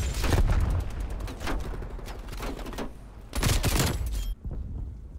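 KSP45 burst rifle firing in the video game Black Ops Cold War: loud, close volleys of rapid shots in quick bursts, separated by short gaps.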